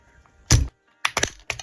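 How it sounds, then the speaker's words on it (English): Plastic keycaps pulled off a budget mechanical keyboard, the ND75, to reach the stabilizers: a loud single snap with a clack, then after a pause a quick cluster of sharp clicks and a final pop, close up with no talk. "So we're going to have to take off the keycaps first."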